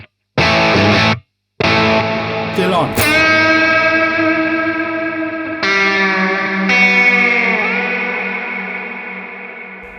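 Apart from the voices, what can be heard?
electric guitar through Hotone Ampero distortion and trail effects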